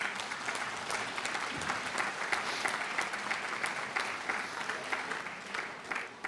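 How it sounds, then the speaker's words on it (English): Steady audience applause fills a school grand opening event, dense clapping holding at an even level throughout with no voices over it. "So I'd like everybody to give a round of applause to Danielle"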